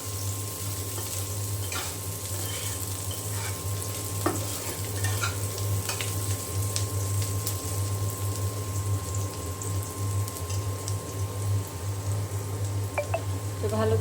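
Garlic and onion fry in oil with a steady, close sizzle throughout, broken by occasional clicks and scrapes of stirring, all with no voices.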